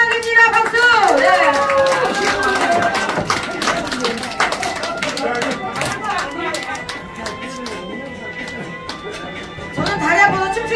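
An audience at a year-end gathering of a Korean instructors' association claps through a dense stretch of applause, loud at first and easing off, with voices chattering underneath and a fresh burst at the end.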